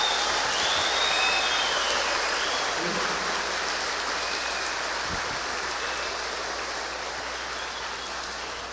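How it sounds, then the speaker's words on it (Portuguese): A church congregation applauds steadily after a baptism service, a dense, even wash of many hands clapping that holds at a moderate level for several seconds without a break. "Você pode aplaudir Jesus bem forte pelo que ele fez?"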